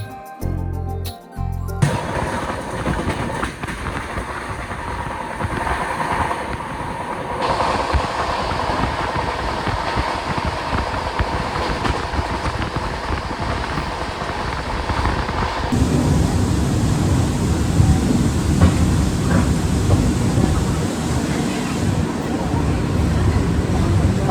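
The Howrah-Chennai Mail rolls through heavy rain, its wheels and carriages giving a constant loud rumble and rattle, with rushing wind and rain noise that swells further partway through.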